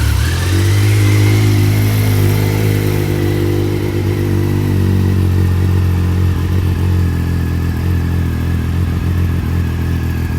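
A Triumph Sprint ST 955i motorcycle fitted with a TOR exhaust idles and revs steadily up close, its loud, deep, throbbing engine note running continuously throughout.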